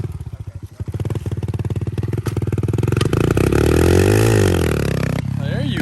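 Pit bike engine revving hard in second gear, a loud near rasp that climbs steadily in pitch and holds at high revs before cutting off, with a voice talking over it.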